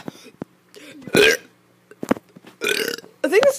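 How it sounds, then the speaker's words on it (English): A kid lets out several loud, drawn-out burps close to the microphone, separated by short pauses and bits of talking. "I think this is my longest burp video."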